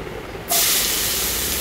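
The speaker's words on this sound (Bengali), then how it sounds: "নামিয়ে ওই তেলে আমি দিয়ে দিলাম কালো জিরে" Black cumin seeds drop into hot oil left from frying fish, and after a short quiet moment a sudden loud hissing sizzle bursts out and holds steady.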